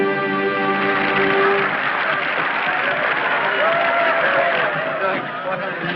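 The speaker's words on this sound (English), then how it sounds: "Hey, listen to them. They're still applauding." A theatre audience applauds at the close of a show: dense, steady clapping mixed with crowd murmur, with a tonal musical strain standing out in the opening seconds.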